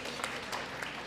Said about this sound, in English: Big round of applause for you guys again.